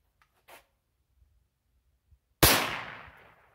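A single sharp rifle shot from a Savage 187N fired during test firing, loud and close with a long decaying tail, preceded by a few faint clicks and handling noises.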